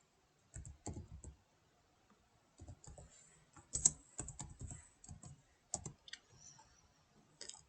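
Typing a search query on a computer keyboard, quick bursts of close, crisp key clicks separated by short pauses, alone in a quiet room.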